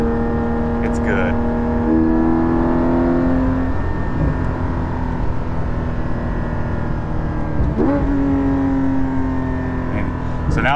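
Porsche 718 GT4 engine fitted with a Soul Performance exhaust rear section, held around 4,500–5,000 RPM on the road, a loud steady exhaust tone with brief shifts in pitch, someone talking over it.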